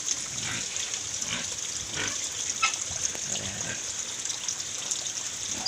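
A native pig of roughly 60 kilos grunts in a clean pen on a farm, with soft, intermittent grunts spread through a steady, hissy background.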